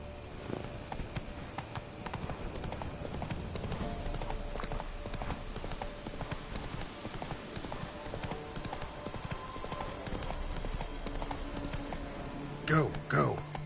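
Roach the horse from The Witcher 3 trots steadily with a continuous clip-clop of hooves through the whole stretch, while other game sounds fill the background and a short burst stands out near the end.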